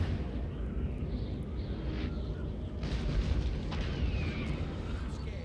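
Cannon fire in Napoleon: Total War, with a 12-pounder striking a 6-pounder, comes through as a dense, continuous low rumble of booms and explosions on a battlefield, loud and sustained throughout with no talk.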